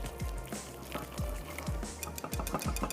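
A spoon stirs half a cup of flour into a mixture for a spiced winter coffee dessert, giving repeated scraping strokes against the bowl with light clinks, close and steady, with no voices.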